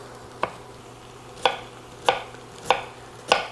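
A knife cuts through peeled onions on a cutting board, five sharp chops falling at uneven intervals, close and clear against a quiet kitchen hum.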